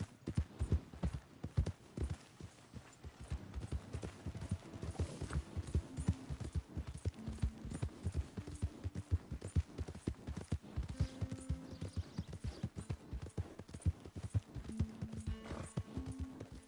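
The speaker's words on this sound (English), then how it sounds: "My horse!" Rapid rhythmic hoofbeats of a galloping horse in Red Dead Redemption 2, loud and close, continuing throughout with a brief whinny and faint tones in the background.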